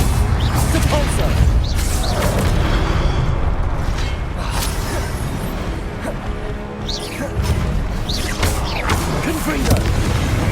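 Repeated magical Repulsor spell blasts in Hogwarts Legacy, booming whooshes and crashing impacts over a dense, constant game soundtrack with battle noise, several bursts across the stretch.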